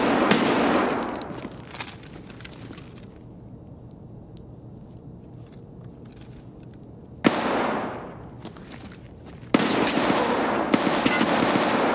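Loud automatic gunfire in the shooter game Escape From Tarkov comes in sharp bursts: one at the start, a sudden burst after a quiet stretch, then sustained firing to the end, with no speech.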